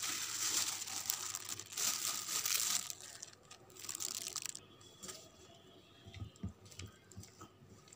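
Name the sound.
kneading boiled carrot paste with flour into dough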